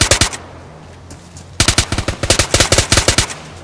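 Weapon gunfire in the video game DayZ: a short rapid burst, a pause, then a longer stretch of loud, rapid automatic shots in quick succession.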